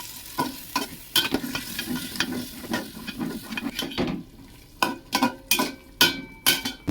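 Spice-paste water is poured into a frying pot for vegetarian jackfruit pulao, followed by loud sizzling and repeated scraping stirs that come in sharp, uneven bursts close by.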